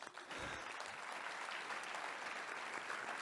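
A conference keynote audience applauds in a short, steady burst of clapping, dense and even from start to finish with no voices over it.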